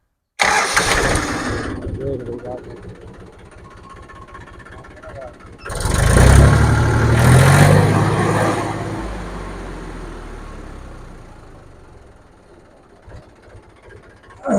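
A 2001 model 275 DI tractor engine cranks, fires and revs loudly, then settles into a lower idle that fades. Voices speak briefly around it.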